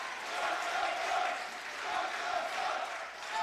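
A volleyball crowd on its feet at match point in an Alaska Nanooks versus Findlay match, a dense, sustained roar of cheering and yelling that swells in waves, with a commentator's voice mixed in.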